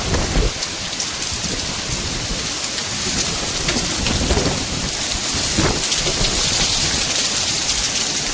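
Heavy rain pours steadily over a village, a dense, unbroken roar of drops beating on surfaces, with a deep low rumble of thunder running underneath throughout.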